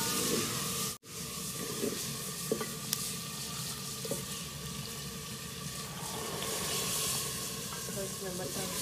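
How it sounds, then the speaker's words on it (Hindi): Green peas drop into a pan of hot tempering oil, setting off a steady, dense sizzle that rises and holds close at hand, with a brief clatter at the start and no voices. "तो इसमें मटर तड़का लग चुका है, मटर डालते हैं"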